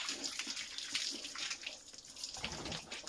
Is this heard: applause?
no